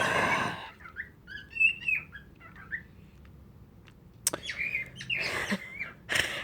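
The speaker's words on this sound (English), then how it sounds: "Aside from the birds singing" Birds singing outdoors, a series of clear chirps and whistled phrases at moderate distance, with quiet gaps and a few louder bursts.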